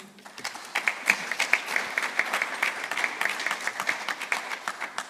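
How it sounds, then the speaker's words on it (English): Conference audience applauding after a presentation on circularity in renewable energy solutions; a sustained, fairly close round of clapping that builds quickly and holds steady for several seconds. "I was going to ask for a round of applause"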